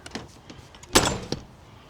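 The door of an American Clipper RV is pushed shut with a loud close-range thud, followed by a few lighter knocks and rattles.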